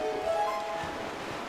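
Water flowing in The Legend of Zelda: Twilight Princess, a steady rushing wash with a soft tonal hum, continuous and moderately loud with no talking.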